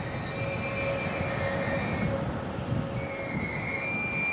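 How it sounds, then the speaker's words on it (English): A taxi van's worn brakes squeal in high, steady tones over a continuous low road rumble, heard from a distance at Auckland Airport with no talk. "Oh, can someone get that taxi a new set of brakes?"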